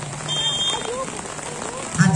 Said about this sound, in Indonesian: seandainya tidak turun hujan